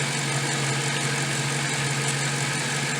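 A Jaguar XK8 engine idles steadily with the hood up during a power steering fluid refill, a constant low hum with a strong low tone and a faint mechanical rattle running evenly throughout, with no voices.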